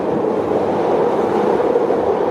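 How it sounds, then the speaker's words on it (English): Subway train rumbling past underground, heard as a steady, dense low roar that stays loud and constant throughout, with no voices. "we're hearing the subway going underneath us."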